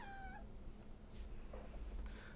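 A cat meows once clearly near the start, followed a second later by a softer, shorter meow over a low background hum.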